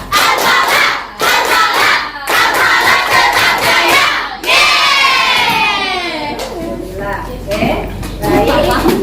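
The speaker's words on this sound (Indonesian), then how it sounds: "biar lebih semangat kita tepuk al-falah ya. Tepuk al-falah." A class of children performs the tepuk al-falah, a rhythmic clapping chant, with loud shouted phrases and bursts of clapping in quick patterns, close and energetic, and a brief pause midway.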